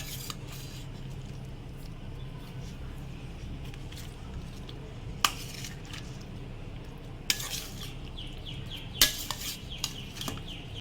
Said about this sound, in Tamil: இதை இப்போ நல்லா மிக்ஸ் பண்ணிக்கலாம்.